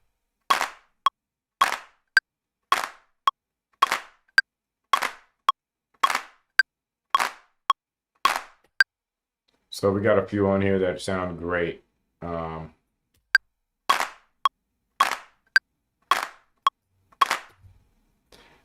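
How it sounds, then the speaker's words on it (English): Punchy drum machine clap samples fire one at a time in a steady, evenly spaced sequence of crisp, dry hits, broken midway by a short stretch of someone talking before the claps resume. "I think the first 3 claps sound great"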